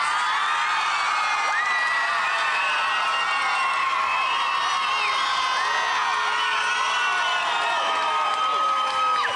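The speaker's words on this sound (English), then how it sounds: "shout and cheer as loud as you can for your favourite song" A studio audience at a televised band contest shouts, whoops and cheers loudly and without a break as it votes for a band, a dense wall of mostly young voices.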